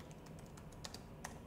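Quiet keystrokes on a computer keyboard while entering code in Excel VBA, a light scattered rhythm of separate taps with a couple of slightly sharper clacks, close by and with no voice.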